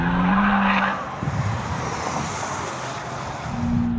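Electric BRABUS smart #1 on a race track, its rear sliding out as the tires skid and squeal, along with tonal engine and motor whine and a loud rushing drive noise heard close up.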